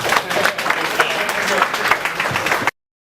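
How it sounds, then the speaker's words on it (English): An audience applauds a new student at a coding school meetup, steady dense clapping for under three seconds before cutting off abruptly. "Let's give Long a round of applause here."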